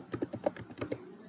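Quick keystrokes on a computer keyboard, about a dozen soft clicks in a short irregular burst, close and faint.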